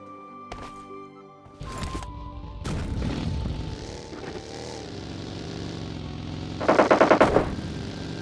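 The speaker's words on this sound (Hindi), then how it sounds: "तभी पीछे से भाई कोई UMP-45 चलाता है" A UMP-45 submachine gun firing in PUBG Mobile Lite, heard as a short rapid burst of shots late in the clip amid in-game rumble, engine-like drones and a few thuds.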